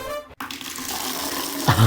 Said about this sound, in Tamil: தண்ணி வந்துருச்சு